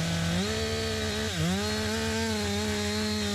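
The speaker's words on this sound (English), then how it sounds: "A wrench, an automated wrench." An automated impact wrench runs steadily and close, a loud continuous motor whine that dips briefly in pitch and recovers, heard alone without talking.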